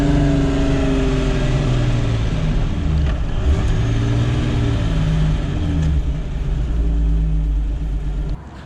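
A one-ton Jeep Cherokee on 40-inch tires cruises on the highway with a loud, steady low engine drone and road rumble heard from inside, the engine note shifting slightly partway through.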